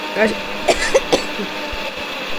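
A person with a cold gives a few short, throaty coughs up close in a home kitchen, mixed with brief bits of talking.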